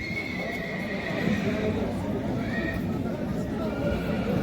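At the Taraz livestock market, a horse neighs and whinnies amid steady crowd noise and hoof clip-clop, with voices talking nearby throughout.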